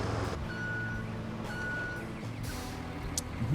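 A bulldozer in the RoadCraft video game sounds repeated reversing beeps, two clear evenly spaced tones over a low engine rumble, with a hiss like an air brake near the end.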